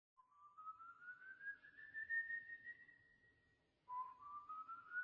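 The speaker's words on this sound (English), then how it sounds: "If you hear random whistling outside at night" Someone whistles outside at night, a clear, steady tone that slides slowly upward and holds. After a short pause a second rising whistle starts. It sounds alone against a quiet background.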